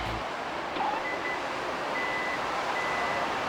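A steady mechanical whirring hum with faint, intermittent electronic beeps over it as the voice-controlled power tailgate of a 2021 Isuzu MU-X 1.9 moves shut.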